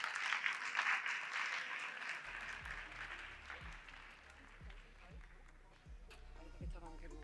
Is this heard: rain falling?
no